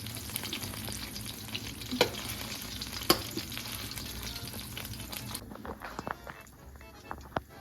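Gola kebabs fry in hot oil with a steady, dense sizzle and crackle, close and fairly quiet, with a few sharp utensil clicks and a quieter stretch near the end.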